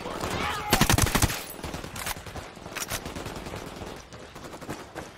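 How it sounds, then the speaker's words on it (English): Gunfire in the video game Ghost Recon Wildlands, with dense overlapping bursts of shots, heaviest near the start and continuing more sporadically, mixed with game voices and ambient noise. "Opening fire on these fuckers."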